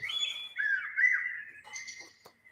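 Birds chirp alone in clear, high whistled notes, one long sliding call followed by a few shorter, softer tweets fading out.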